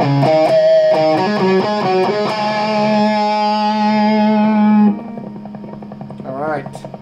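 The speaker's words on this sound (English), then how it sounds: "you can hear clicking sound and humming sound in the background" Electric guitar played through a mega distortion pedal with the noise suppressor switched off: loud, thick chords and notes ring out, then give way to a steady background hum with faint clicking.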